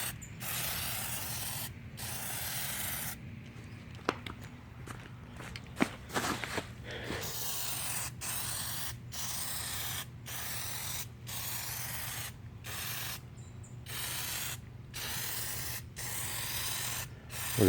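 An aerosol can of Plasti Dip lays a heavy wet coat on a car grille, hissing in repeated bursts broken by short pauses, with a few sharp clicks and handling noises close by.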